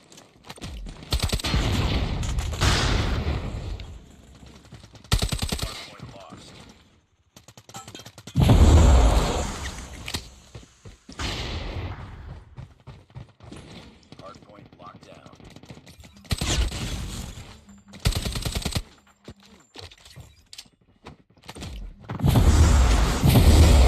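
Bursts of rapid MG42 machine gun fire from COD Mobile during a tournament match, fast stuttering volleys with booms and pauses in between, under excited commentator talk.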